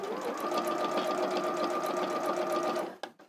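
A sewing machine top stitches an edge through several layers of fabric for a backpack, running as a steady, loud, continuous mechanical whir that stops abruptly near the end.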